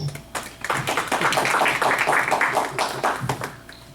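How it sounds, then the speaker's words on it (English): Attendees at a village budget meeting clap for the board, a steady round of hand applause from a modest group that swells, then fades out near the end. "So I want a big round of applause for all my colleagues on the board for making that possible."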